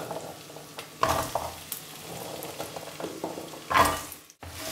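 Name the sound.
carrots stirred with curry in a pot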